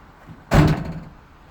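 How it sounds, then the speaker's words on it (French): A car door swinging shut during a check of a flat battery for a current leak, one solid close thud with a short fading rattle, heard alone against a quiet background. "Si on referme la porte,"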